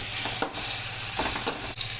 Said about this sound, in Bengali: দিয়ে এভাবে লাড়বেন পেঁয়াজের সাথে, এগুলা ভাজা হয়ে যাবে